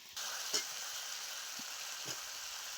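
Chopped eggplant drops into a hot pan of potato and drumstick pieces cooked with a little turmeric, setting off a sudden, steady sizzle with a few soft clinks and stirring taps, close and moderately loud, with no voices.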